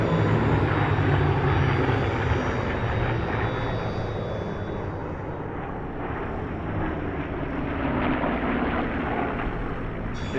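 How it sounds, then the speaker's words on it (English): Warbird fighter formation of a P-40, Spitfire, Mustang and Corsair passing at an airshow at Temora, a steady broad piston-engine roar that stays loud throughout and gradually shifts in tone as the aircraft pass. "from your right, the fighter formation. P-40, Spitfire, Mustang"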